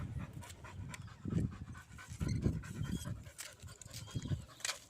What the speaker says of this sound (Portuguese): O Ralph, galera, a raça do Ralph é pitbull com vira-lata, é raciado, é mestiço.